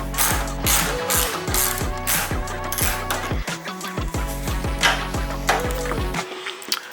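Hand ratchet removing 8mm bolts on a Ford Mustang GT S197: rapid, close, continuous clicking strokes in a steady rhythm with brief pauses.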